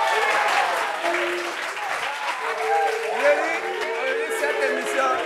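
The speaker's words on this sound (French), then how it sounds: "Applaudissements." A studio audience bursts into sustained applause on a French talk show, dense crowd clapping holding steady for several seconds, with some voices mixed in.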